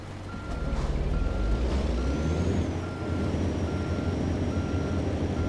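A truck reversing in American Truck Simulator, steady evenly spaced backup beeps repeating over a low diesel engine rumble, with a brief air-brake hiss early on.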